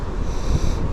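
Wind buffeting the microphone beside a high country river, a brief, loud, low rumbling gust with a steady rushing hiss.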